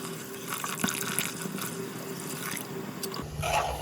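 Water is poured into a pan of rice for rice Maggi. A steady splashing stream runs close by and grows into a louder gush near the end.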